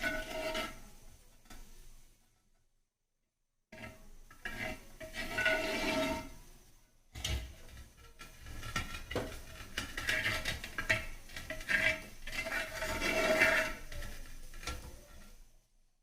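Cooked sarson ka saag, mustard greens, is mashed in a metal pot with a wooden churner, giving bursts of scraping, rubbing and clattering strokes. A short silent gap breaks the work before the strokes resume, near and fairly quiet.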